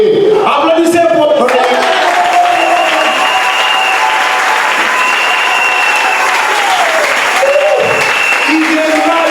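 A church congregation breaks into loud, sustained applause and cheering that fills the room for several seconds, with voices shouting over the clapping.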